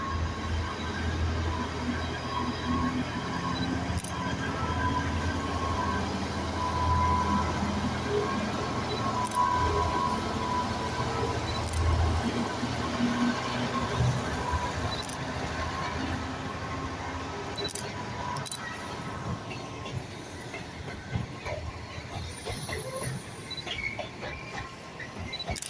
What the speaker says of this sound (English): Here goes DB 66-001 on a DB service from Felixstowe